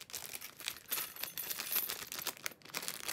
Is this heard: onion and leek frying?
no